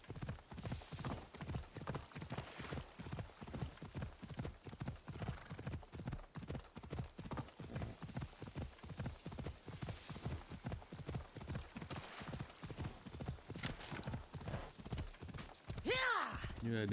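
A horse gallops at full speed in Assassin's Creed Odyssey, a steady, quick clip-clop of hooves running continuously throughout, with a brief whinny near the end.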